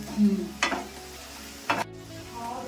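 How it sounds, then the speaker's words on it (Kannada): Garlic potato rice stirred in a pan, two distinct scraping strokes of a spoon against the pan over a soft background sizzle, fairly close and faint. "ಇವಾಗ ಒಂದ್ಸರಿ ಮಿಕ್ಸ್ ಮಾಡ್ಕೊಳ್ಳೋಣ"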